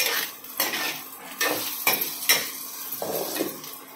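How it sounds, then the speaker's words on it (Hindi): Potatoes fry for sabudana khichdi in a pan, a sizzling hiss broken by repeated metal spoon scrapes and clinks against the pan, close and loud with no talk. "देखिए इसमें आलू फ्राई हो रहा है"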